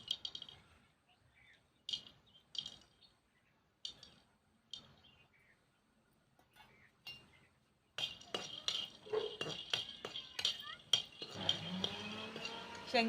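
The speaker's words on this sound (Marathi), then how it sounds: "आता शेंगदाणे आपण भाजून घेऊया." Peanuts dry-roasting in an iron wok over a wood-fired stove: sparse metallic clinks and taps at first, then a dense, steady rattle and scrape of stirring that grows busier toward the end.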